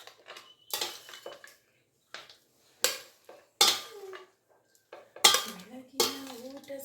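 A spoon stirs lemon rice in a metal pan, giving a series of sharp scraping clinks and clatters at an irregular pace, close and fairly loud, with a short murmur of voice between strokes.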